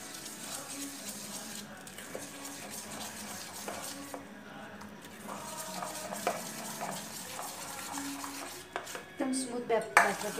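A spoon stirs dhokla batter of yogurt and water in a bowl, with soft continuous scraping and irregular clinks against the dish, close up and growing louder toward the end.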